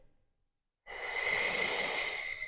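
After a brief quiet pause, one long, airy exhale streams out steadily from close by, soft and even, as in a beginner Pilates breathing exercise.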